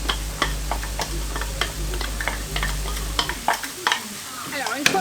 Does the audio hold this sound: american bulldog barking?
no